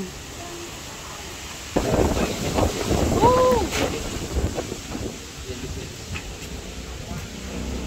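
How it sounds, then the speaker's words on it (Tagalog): Strong typhoon wind roars and buffets the microphone in a low, rumbling rush that surges partway through, with a brief voice heard amid it. "Lakas ng hangin."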